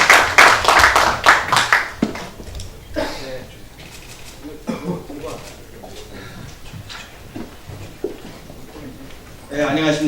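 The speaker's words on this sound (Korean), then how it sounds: "기대하면서 큰 박수로 모시겠습니다." Audience applause greets a speaker at a Korean political party meeting and emergency forum on income-led growth policy, a burst of clapping for about two seconds followed by quieter room noise with scattered sounds.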